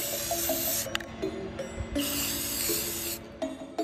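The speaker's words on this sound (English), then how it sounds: "spraying a clear coat over our mummy" Two long hissing bursts of aerosol clear coat spray, each lasting about a second, close up on a scrap wood craft, with faint clicks and rattles between them.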